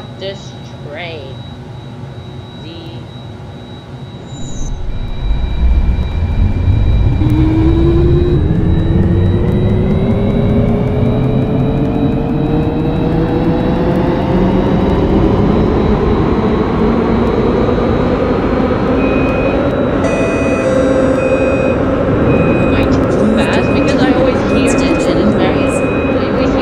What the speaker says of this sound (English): Okay, let's start this train.